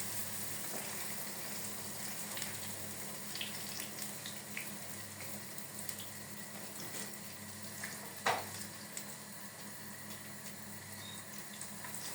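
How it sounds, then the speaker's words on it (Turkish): A low, steady sizzle of pişi dough pastries frying in hot oil, with an occasional small clink or tap, close by and with no talking. "Şöyle bunlar kızara dursunlar."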